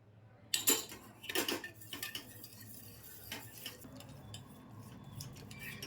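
Rice milk stirred in a pan over a medium flame, with a utensil scraping and clinking against the metal in a few loud close strokes, then softer intermittent scrapes and taps, no voices.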